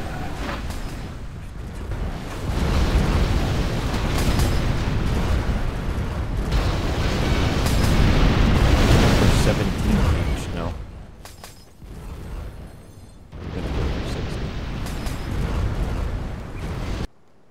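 In the game C&C Generals Zero Hour, a nuclear missile detonates with a loud, sustained roaring blast and rumble lasting several seconds, then dips before a second wave of heavy rumbling, with no talk over it.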